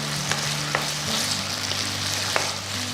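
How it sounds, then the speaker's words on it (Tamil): Potatoes and onions sautéing in a pan over a medium flame, a continuous close sizzle with occasional stirring scrapes and small pops. "ஸோ ஃப்ளேம் மீடியமில் வச்சு நல்லா உருளைக்கிழங்கு ஒரு 5 மினிட்ஸ் நல்லா வதக்கணும்."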